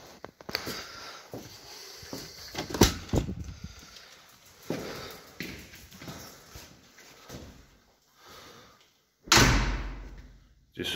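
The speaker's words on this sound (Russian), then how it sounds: "Давай, дверь открой." A door is opened and closed in a home while a dog waits to go for a walk, giving several sharp knocks and thuds spread across the stretch, with one loud slam near the end and quieter handling noises between.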